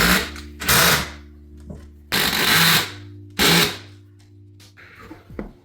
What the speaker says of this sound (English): Now we are going to screw the cleating onto the wall.